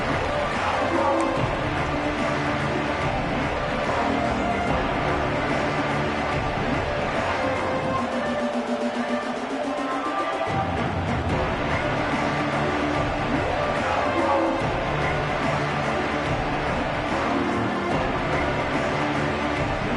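Stadium crowd noise from the College Football 26 video game during a Georgia home game, a dense, steady roar with broad texture throughout, briefly dipping in the middle before swelling again, with commentary voices mixed in.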